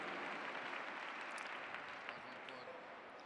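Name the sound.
applause from the audience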